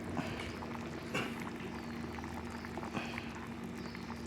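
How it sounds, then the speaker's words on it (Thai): Water bubbling at a steady boil in a sukiyaki hot pot, a continuous low hiss with occasional louder pops, close by and fairly quiet. "นี่น้ำเดือดแล้ว"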